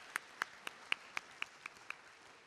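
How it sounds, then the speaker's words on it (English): Eight sparse, evenly spaced claps after a presentation, faint and distant, sounding like only one or two pairs of hands over a quiet room. "Big round of applause for this wonderful presentation."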